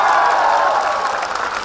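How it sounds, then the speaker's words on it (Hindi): A crowd at a company event claps loudly and steadily in a short, dense burst of applause with a few faint cheers mixed in. "तुम जो ऊपर हाथ करके जोरदार तालियां बजा दो"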